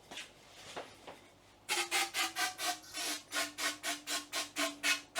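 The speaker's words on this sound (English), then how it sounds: "Why are you roughing the inside up so that the new ones stick?" Abrasive scraping roughs up the inside of a motorcycle fork tube on a Royal Enfield, in a steady run of rhythmic rasping back-and-forth strokes, loud and close, after a quieter start.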